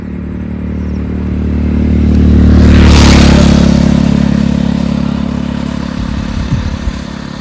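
A motorcycle engine swells as it approaches, peaks loudly, then fades while still rumbling nearby, with some clatter near the end.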